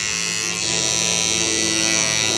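A scalp micropigmentation machine buzzes steadily and loudly for the whole stretch, a continuous close-up electric whine with a bright high-pitched edge, no talk over it.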